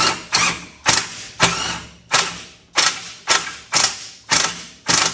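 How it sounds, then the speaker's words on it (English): A half-inch electric impact wrench tightens a bolt during a battery box install on a Mack CL713 E9 V8 truck, giving about ten short, loud rattling bursts, each cut off sharply, with brief pauses between them. "these half-inch, these electric impacts don't got quite as much gusto"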